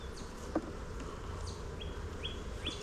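Honey bees buzzing around an opened Langstroth hive, a steady close hum of many insects with a few thin high chirps mixed in, no talk.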